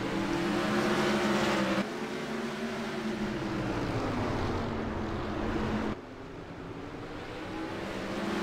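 Spike chassis race cars roar off the start of a 100-lap race at New Smyrna, a loud, continuous engine drone that shifts pitch as the pack accelerates, with no talk over it.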